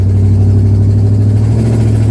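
The loud engine of the Pandora tribute car, a bare-bones build with no headliner or carpet, drones steadily at close range with a strong low rumble and no break.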